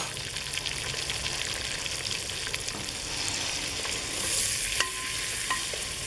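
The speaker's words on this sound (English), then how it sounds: "Give that a stir." Curry powder sizzles steadily in a pan, with soft scraping stirs running through a fairly quiet, continuous fry.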